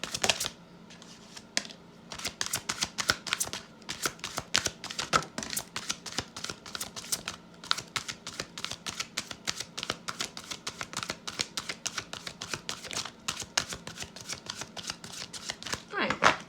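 Tarot cards shuffle in a long run of rapid, crisp riffles and flicks, close and fairly loud, continuing with barely a pause, while a voice speaks faintly in places.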